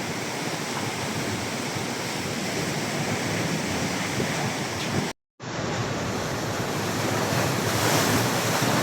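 Loud, constant roar of sea waves surging into a house in a coastal village, mixed with heavy wind buffeting, interrupted by one abrupt moment of silence.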